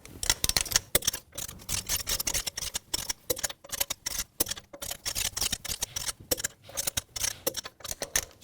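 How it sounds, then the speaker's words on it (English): Torque wrench tightening the lug bolts on a 2000-2006 BMW X5 wheel in a cross pattern, a rapid run of sharp ratcheting clicks in bursts with short pauses, close and alone. "Now I'm going to torque the lug bolts to 111 foot-pounds in a cross pattern to tighten the wheel down evenly."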